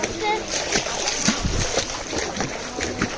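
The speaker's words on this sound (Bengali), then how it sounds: "দেখুন এখানে পানি নিয়ে সবাই খেলা করছে।" People splash and play in water outdoors, with repeated close splashes and sloshing under lively talk and children's voices throughout.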